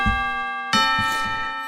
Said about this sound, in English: Oh, that must be the school bell.